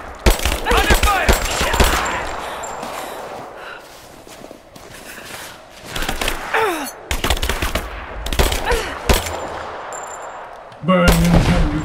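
Loud bursts of automatic gunfire in Rise of the Tomb Raider come in repeated volleys with short pauses between them. Voices and game effects are mixed in.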